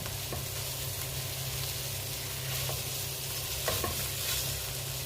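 Water poured over rice frying in a pan sets off a loud, continuous sizzle, with occasional utensil scrapes of stirring cutting through the steady hiss.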